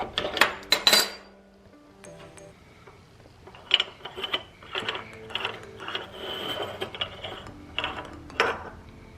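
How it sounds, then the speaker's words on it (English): Wrench ratcheting on a part of a Cadillac CTS-V engine while fitting an oil catch can, heard as bursts of close metallic clicking and clatter, with quieter ratchet clicks and small tool sounds through the rest. "Grab my wrench."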